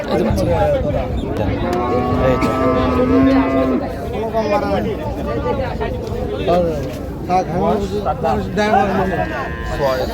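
Cattle moo loudly in a long, low call near the start, with more lowing and steady crowd chatter filling the background throughout, at a dairy cow and calf market in Raniganj, Dinajpur.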